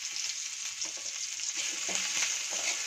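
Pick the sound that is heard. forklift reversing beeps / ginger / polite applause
ginger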